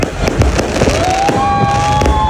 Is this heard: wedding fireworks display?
yes